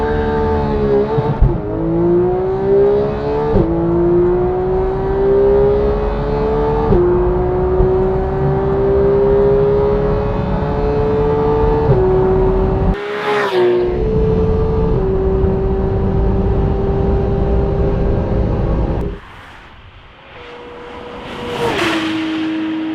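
Porsche GT3 (991) flat-six engine howling as it accelerates hard on the Autobahn, pitch climbing through each gear with brief dips at the shifts, loud and close, easing off near the end before rising again.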